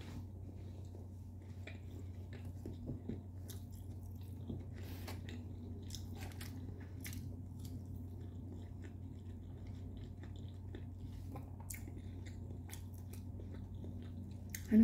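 Someone eats and chews food in a quarantine room, soft crunches and bites recurring steadily through the clip over a constant low hum, with no talking.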